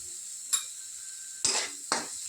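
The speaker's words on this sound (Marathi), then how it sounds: "एकदम परतून घ्यायचं चांगलं." Kanda poha with turmeric and fried chillies being stirred in a pan: a faint steady sizzle with three short scraping stirs of a spoon against the pan, no voices.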